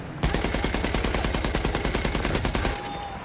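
A support-class gun in Battlefield 1 fires one loud, rapid, sustained automatic burst of evenly spaced shots for about two and a half seconds, then stops abruptly.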